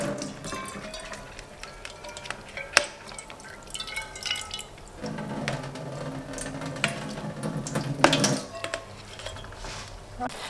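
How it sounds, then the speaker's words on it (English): Water splashes and drips against metal as a pot of noodles is tipped to strain it, with clanks of cookware and a longer pour in the middle. "I shall strain the water from the noodles"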